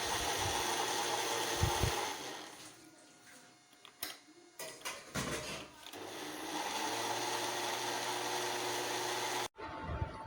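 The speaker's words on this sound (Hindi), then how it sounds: "अच्छी तरह ग्राइंड कर लें" A mixer grinder whirs through mango, sugar and milk for a homemade mango milkshake, a continuous motor drone that falters and surges midway with bumps and rattles, then runs steadily again before cutting off abruptly.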